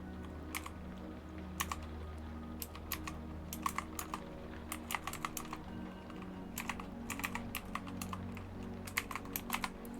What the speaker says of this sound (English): you guys will have to let me know what you think of the keyboard.